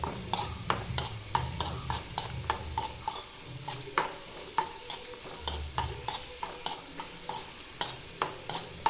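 Jackfruit frying in a pan under a steady sizzle, with a spoon scraping and tapping in a quick, regular stirring rhythm, close by and with no voices.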